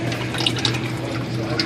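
Oil trickles and drips steadily as it drains from the oil filter of a 2013 Ford Escape 1.6 EcoBoost, a close, continuous liquid patter with small splashes and no speech.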